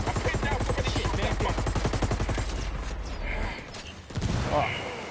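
Sustained rapid automatic gunfire rattles loudly and close in Ghost Recon Wildlands, a dense rhythmic machine-gun stream for over three seconds before a brief lull and another burst.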